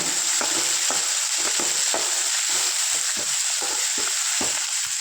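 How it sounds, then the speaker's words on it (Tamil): Tomato and ladies finger sauté in a hot pan under a loud, continuous sizzle, punctuated by a regular series of spatula scrapes and knocks against the pan, close and busy. "டொமேட்டோ ஆட் பண்ணி நல்லா வதக்கி விட்டுக்கோங்க"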